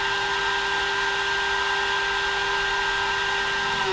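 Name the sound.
Makita router spinning at full speed on VFD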